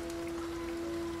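Rain falls in the video game Lorelai as a steady, soft patter of drops with a faint constant hum underneath, even and unbroken throughout.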